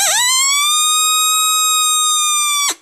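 A human-imitated young coyote howl for coyote calling: one clear, high tone slides upward, holds steady for about two seconds, then cuts off abruptly.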